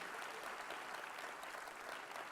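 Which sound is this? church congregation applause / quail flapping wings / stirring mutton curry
church congregation applause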